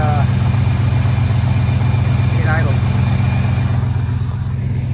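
A truck engine with no throttle linkage idles on its own, a steady low rumble with an even pulsing beat that holds close and loud throughout, with faint talk over it.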